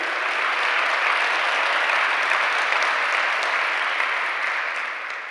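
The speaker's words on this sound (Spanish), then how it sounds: "Si le va a aplaudir a Él, hazlo fuerte." A church congregation breaks into loud, dense applause during a sermon, a thick continuous wash of many hands clapping that stays strong throughout and eases only slightly at the close.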